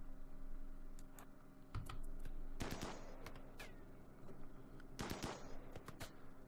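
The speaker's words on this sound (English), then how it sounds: "Small assault rifle gunshot." A small assault rifle fires in the video game RimWorld: two short, sharp bursts of gunshots, fairly faint, over quiet background noise with scattered clicks.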